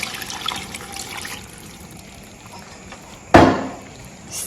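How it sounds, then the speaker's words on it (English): Gizzard stock is poured into jollof rice sauce, a brief liquid splash and pour sound that rises suddenly and trickles off over a couple of seconds against a quiet kitchen background. "I'll go ahead and add the stock from the gizzard."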